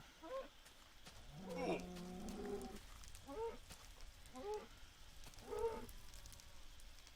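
In the game Hidden Secrets 2, a cow dying in fire gives several short, faint, pained moos spaced through the scene, one longer groaning call among them, over a soft crackling background.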